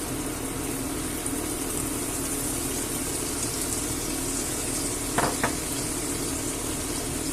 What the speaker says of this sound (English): And we'll give it a nice mix about so that the flour dissolves and has no bits in it.